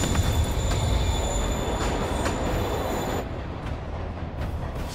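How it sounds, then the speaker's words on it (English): A train rumbles along steadily in the video game Marvel's Spider-Man on PS5, with metallic wheel squeal and rolling clatter, loud and close, easing off slightly near the end. "Train's moving."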